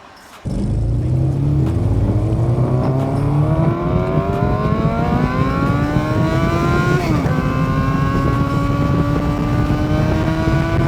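A Honda CBR 600F sport motorcycle engine revs hard through its exhaust, the pitch climbing steadily, dipping briefly at a gear change, then rising again, loud and close throughout.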